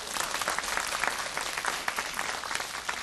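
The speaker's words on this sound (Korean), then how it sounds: "청년의 자축의 박수입니다" Sustained applause from a church congregation at a youth worship service, a dense steady clapping crowd filling the room for several seconds without pause.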